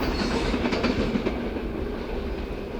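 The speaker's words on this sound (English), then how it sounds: "Train speed 35 miles per hour by radar gun." A train passing at about 35 miles per hour on a railroad line, its wheels rolling steadily and clattering over the rail joints, loud and close throughout with no talk.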